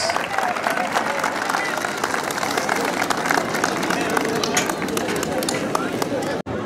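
Dense crowd applause at a San Isidro patron saint festival, a loud, steady wash of many hands clapping that carries on throughout, with crowd noise and a voice underneath.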